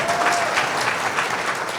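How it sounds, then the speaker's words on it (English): At a Muslim mental health conference, a seated audience gives a panel a warm round of applause: brief, dense, steady clapping throughout, fairly loud and close. "please give our panel a warm round of applause."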